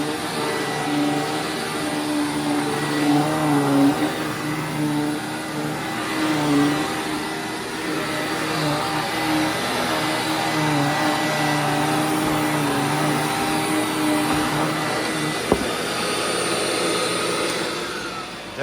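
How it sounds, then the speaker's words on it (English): A repaired Hoover WindTunnel upright vacuum cleaner with a replaced bearing runs steadily and loudly with a continuous motor whine, humming without pause for the whole stretch, with a brief knock near the end. "there's Hoover Wind Tunnel fixed"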